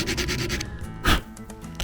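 Hand sanding of sharp edges with sandpaper, a few short close rubbing strokes, quiet and scratchy, with no voices.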